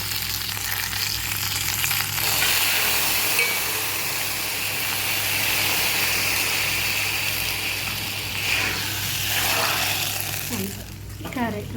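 Spices tempering in hot oil for carrot rasam, a continuous close sizzle and crackle with stirring, a low steady hum underneath and a few clattering sounds toward the end.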